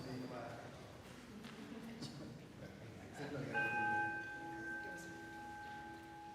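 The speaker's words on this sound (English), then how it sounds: "now that we've heard the chime" During a church worship service a chime is struck and rings out as a clear sustained tone that slowly fades, preceded by people talking in the sanctuary.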